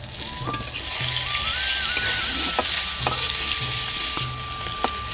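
Loud, continuous sizzle of pointed gourd frying in oil, with occasional metallic taps and scrapes from a utensil; a faint steady tone hums throughout.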